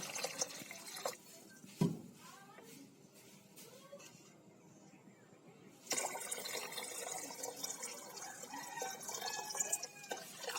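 Water poured into a kadai of soaked, softened sago pearls, heard as a steady splashing and trickling pour in two stretches with a quieter pause between, no talking.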